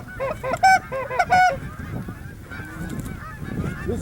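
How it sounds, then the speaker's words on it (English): Geese near a hunting blind in a field give a rapid series of loud, nasal honks, several birds calling together, then fainter honks trail off over a low rumbling background. "geese in your blind right now."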